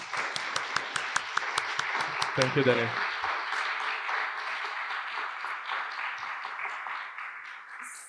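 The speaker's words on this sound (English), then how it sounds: "Let's give him a round of applause" Audience applause for a speaker at a COP26 panel discussion on meat, sustained clapping from a room crowd, with a voice speaking briefly over it before the clapping thins toward the end.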